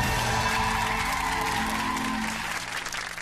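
Studio audience applause on a children's quiz show, a dense, steady wash of clapping that fills the whole stretch at full strength and eases only slightly toward the end, with no voices over it.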